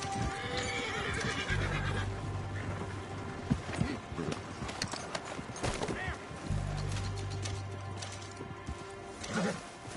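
Horse in the video game Red Dead Redemption 2 neighing and whinnying over rhythmic clip-clop hoofbeats, fairly quiet, mixed with game ambience and brief voices.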